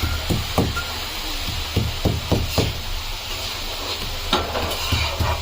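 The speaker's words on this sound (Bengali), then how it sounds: "এই যে এখন আমার মামি রসুন ছেঁচে করছে" A woman crushes garlic by hand in a home kitchen, making a string of dull, irregular knocks over a steady sizzle of frying food in the background.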